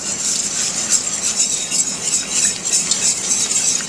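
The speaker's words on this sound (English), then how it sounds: "So I am going to start adding the broth." Broth is poured into a roux and stirred for a velouté sauce, giving a steady, close hiss and bubbling with faint scraping, without any talk.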